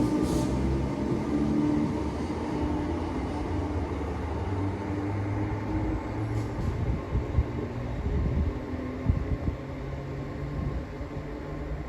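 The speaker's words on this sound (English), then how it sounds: "Train now departing is class 319 going to" A Class 319 electric train departs St Helens Junction bound for Manchester Victoria, producing a steady, fairly loud low rumble and rolling rail noise that holds throughout with no speech.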